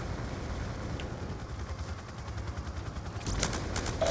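Gunfire in Black Ops 2 crackles as a distant, muffled fusillade of rapid shots, steady and low, sharpening into louder bursts near the end.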